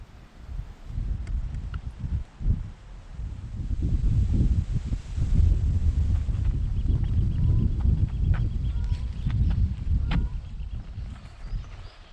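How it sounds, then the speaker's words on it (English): Steady broadband wind buffets the microphone on an exposed disused railway trail along the Mawddach in Snowdonia on a mild late-spring day, a continuous low roar with gusty swells, no speech. "It's just good to get out of that wind."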